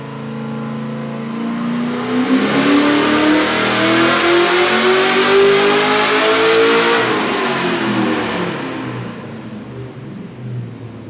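Chevrolet Camaro engine on a dyno with nitrous, revving in one long sustained pull that climbs steadily, then drops away and winds down, loud and alone.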